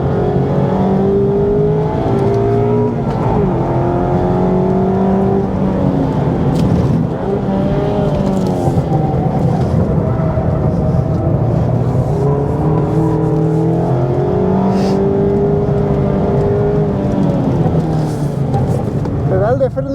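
A Mazda MX-5 RF 2.0 Homura engine revs hard while accelerating, its loud, close note climbing and dropping repeatedly through gear changes in continuous pulls.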